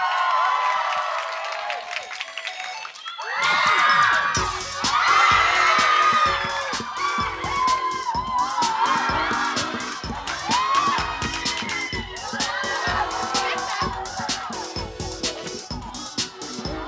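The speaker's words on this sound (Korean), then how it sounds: "텔미 뜨거운 박수 부탁드립니다." A TV studio audience on a Korean idol show claps, cheers and whoops after an introduction for Wonder Girls' 'Tell Me', a dense sustained burst that starts abruptly a few seconds in, with some voices mixed through it.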